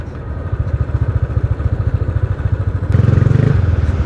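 A Royal Enfield Bullet motorcycle engine runs at a steady idle with a rapid, even thumping pulse, close and fairly loud, then picks up into a brief rev near the end.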